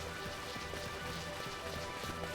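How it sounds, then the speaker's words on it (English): Steady rain pattering on a surface in Final Fantasy XII, a dense continuous hiss with faint drop ticks, low in level and with no voices. "Either that or it just has to be raining harder."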